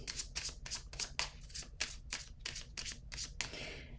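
A deck of playing cards being shuffled by hand, with a rapid series of crisp riffling bursts repeating about every half second, close and fairly loud, ending in a longer softer riffle.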